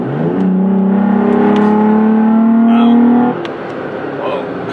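A third-generation Toyota Tacoma pickup fitted with a Pedal Commander in Sport Plus mode accelerates from inside the cab, its engine note rising steadily for about three seconds before easing off; speech is mixed in.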